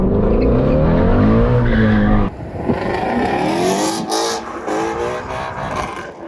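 A Shelby GT350 Mustang drifts with traction control off: loud, close tire squeal over a revving V8 engine, then shorter skids and bursts of acceleration as the car slides.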